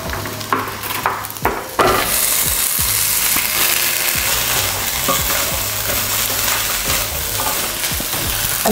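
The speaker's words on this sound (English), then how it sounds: "Now I'm going to add the rest of the vegetables." Vegetables with onion and tomato paste sizzle loudly in a pan after a few clanks of adding and stirring, the frying settling into a steady close hiss.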